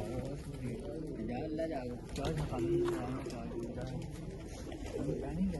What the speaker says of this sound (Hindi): बड़े ही जबरदस्त कबूतर लग रहे हैं मुझे